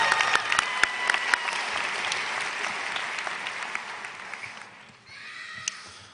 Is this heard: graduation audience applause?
yes